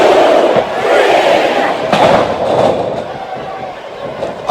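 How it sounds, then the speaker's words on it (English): Arena crowd in the WWE SmackDown vs. Raw 2007 video game, a loud, continuous roar of cheering and shouting that swells and dips throughout, with faint commentary mixed underneath. "It sounds like this capacity crowd has something on their minds, Taz."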